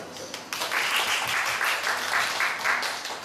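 An audience applauds at a small talk gathering, a steady wash of many hands clapping together that holds for several seconds, with voices faintly underneath.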